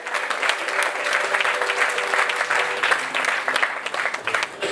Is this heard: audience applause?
yes